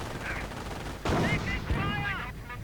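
Artillery and mortar fire in a strategy war game, a sharp blast followed by crackling shots and whistling shell sounds over steady battle noise, fairly close.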